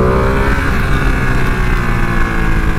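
A Ducati Panigale motorcycle engine revs briefly on a wet, leaf-covered road, a loud, steady, throaty drone held close for the whole stretch.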